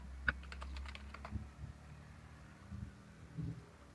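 Soft, quiet keystrokes on a computer keyboard, a quick burst of taps early on and then sparse, faint clicks against a low background hum.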